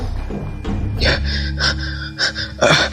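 A tired man pants and gasps on a stairway after running around, with several heavy, ragged breaths close by and a louder burst of gasping near the end.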